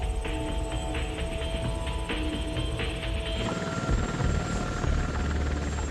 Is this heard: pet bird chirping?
no